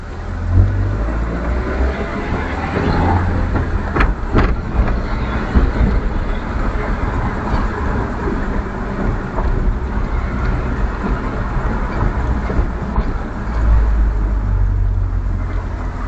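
Steady road rumble and cabin noise of a car driving, captured by a Vantrue E1 Pro dash cam, a loud continuous low drone with a few sharp knocks and bumps along the way.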